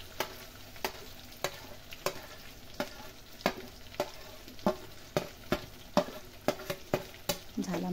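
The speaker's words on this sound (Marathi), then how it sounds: "आता त्याच्यामध्ये जो राहिलेला मसाला आपल्याला ह्या वांग्यावर टाकून घ्यायचा" Brinjal pieces being stirred with masala in a frying pan, a spoon scraping at regular intervals over a steady close sizzle of frying spices, prepared village-style for a spicy rassa bhaji.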